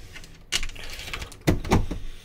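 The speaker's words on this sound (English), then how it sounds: "I'll close this now, it's getting wet by the door." A door being pulled shut against rain blowing in, with a soft thud and a rattle and then a firmer double knock as it closes, close by over a steady hiss of rain.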